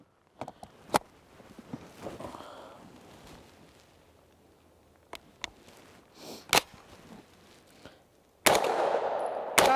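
Extar EP9 Gen2 pistol firing Federal ammunition: scattered sharp, loud single shots spaced irregularly, with quieter handling clicks and rustles between them and a rush of wind noise at the end.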